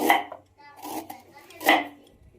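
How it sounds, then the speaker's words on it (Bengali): Knife blade striking a cutting board while finely mincing ginger in a home kitchen: a few crisp, close chops, one near the start and one later, with quieter handling noise between. "এবারে যে আদাটাকে এরকম কুচি কুচি করে কেটে নেব।"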